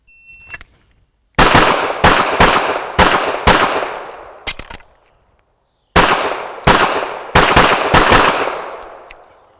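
Loud pistol shots crack in rapid strings of four or five, each string broken by a short pause for a reload, with sharp echoing reports close by on an outdoor range.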